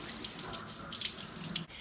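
Tap water runs into a kitchen sink for a quick rinse while making pozole, a quiet steady splashing stream with a few brief clinks over it.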